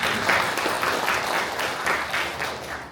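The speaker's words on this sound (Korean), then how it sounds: "큰 박수 부탁드립니다" Audience members at a Buddhist scholarly seminar in Daejeon applaud to welcome a senior monk. The crowd clapping is warm and steady with a gentle pulsing rhythm, and it tapers off near the end.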